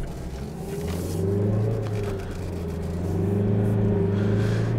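A Mazda CX-3 1.5 SKYACTIV-D diesel with front-wheel drive pulls away on a road, its engine a steady low drone that swells slightly as it gathers speed, heard from inside without talk.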